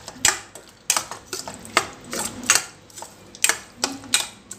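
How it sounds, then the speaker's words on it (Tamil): Curd and cucumber are stirred together for a cucumber curd pachadi, a utensil scraping and clinking against the bowl in repeated close strokes. "இப்போ எல்லாம் ஒன்று கூட நல்லா மிக்ஸ் பண்ணிக்கலாங்க"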